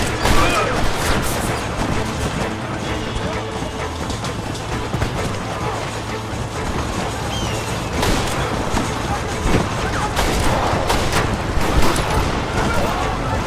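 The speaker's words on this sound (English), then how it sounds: "Stop shooting at me!" Rapid gunfire from Western-era firearms in the video game Red Dead Redemption, a dense, continuous barrage of shots with loud bursts throughout, mixed with game effects and a shouting voice.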